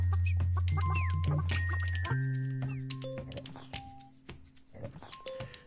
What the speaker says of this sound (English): Just poking the chickens.